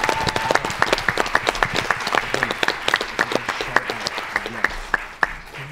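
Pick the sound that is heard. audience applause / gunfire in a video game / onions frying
audience applause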